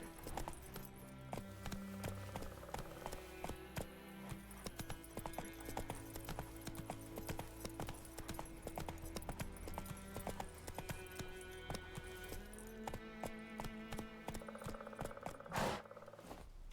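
In the video game Witcher 3, the horse Roach gallops with rapid, rhythmic clip-clopping hooves, quiet and steady over a game soundscape.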